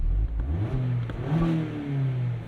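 A 2024 Mazda MX-5 Miata RF's four-cylinder engine revs freely, rising and falling in pitch a few times, close and fairly loud with no talking.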